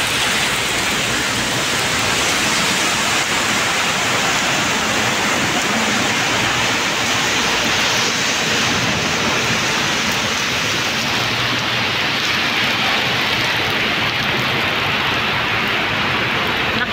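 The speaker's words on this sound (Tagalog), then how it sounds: "Ang lakas-lakas ng ulan." Heavy rain pours down in a dense, constant hiss, loud and unbroken throughout, with no voices.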